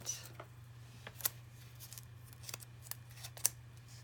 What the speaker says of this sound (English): grab some ribbon scissors. Cut that fairly short.